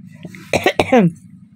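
Two or three quick, close coughs in a rapid burst, ending in a short voiced, strained sound.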